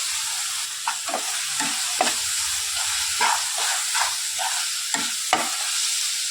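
Schezwan masala fries in a hot pan with a loud, steady hiss, while regular scraping strokes of a spoon stir and mix it close up.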